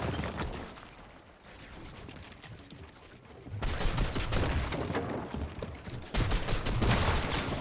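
Rapid bursts of video game gunfire land as headshots in a dense, sustained fusillade that grows louder midway and stays heavy to the end, with no talking.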